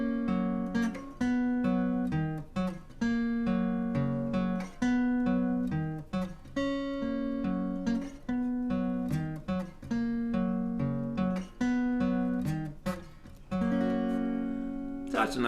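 Guitar playing a section of a song, with steady strummed chords in a repeating rhythmic pattern and some plucked bass notes, heard up close and alone for about fifteen seconds.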